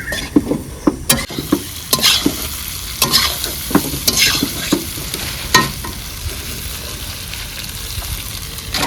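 Fried potatoes are stirred and sautéed in a hot pan while oil sizzles steadily, with sharp scraping strokes of the spatula coming in an irregular rhythm, loud and close, with no talking.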